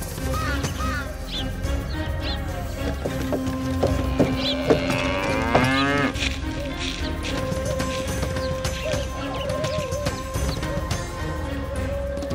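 Cattle low in an animated scene with a bullock cart, with a drawn-out moo in the middle over a busy background of clattering and other noise.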